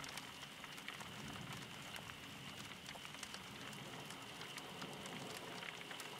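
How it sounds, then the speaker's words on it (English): Steady rain patters against the windows of a forest cabin, a soft continuous hiss dotted with distinct droplet ticks, quiet and even throughout with no voices. "rain on the windows outside."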